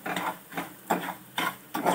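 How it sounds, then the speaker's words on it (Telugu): Coarse rice semolina (rava) dry-roasting in a pan over a low flame, stirred in steady rhythmic strokes that give about five close, scratchy scraping bursts, with no talking. "ఇది వేగుతూ ఉంటుందండి"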